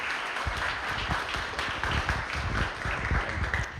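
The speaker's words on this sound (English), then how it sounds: "If we can give Vincent a round of applause and have him up here." An audience at a business masterclass claps to welcome a guest onto the stage, a steady rattle of many hands lasting several seconds, moderately loud and even, with no voices over it.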